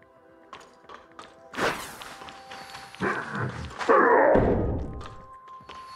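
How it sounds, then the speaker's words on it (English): In the Tower of Fantasy video game, someone bangs on a door: a few light taps and knocks, then several heavy, reverberant thuds and rattling bangs that grow louder over a few seconds. "It sounds like someone's banging on the door."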